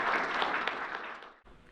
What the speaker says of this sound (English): Let's have another round of applause for our Offensive Player of the Year finalists.